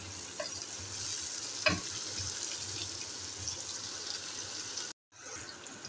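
Onions frying in a pan as a Chicken Tinday curry gets under way, a steady close sizzle with a couple of stirring clicks, broken by a brief silent gap near the end.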